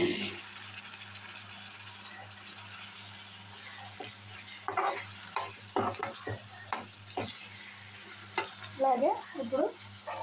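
Chicken with onion pieces frying in oil in a pan, a steady close sizzle with repeated scraping stirs that grow busier toward the end, plus a low background hum.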